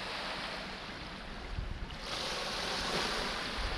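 Steady broadband wash of lake water lapping near a shoreline with mountains ahead at sunset, with light wind noise over the microphone and no talking, a continuous even murmur rising slightly toward the end.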